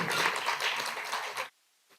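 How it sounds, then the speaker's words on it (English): An audience at an institute gathering claps for the alumni, a dense burst of applause lasting about a second and a half that stops abruptly and leaves near silence. "let's give a huge round of applause to the alumni present here"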